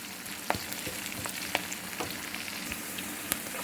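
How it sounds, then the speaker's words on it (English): Chopped onions fry in a pan while being cooked toward golden brown for butter paneer, giving a steady, close sizzling hiss broken by a few sharp pops and crackles, with no talking. "We will let the onion cook for some time till it gets a golden brown color or golden yellow color."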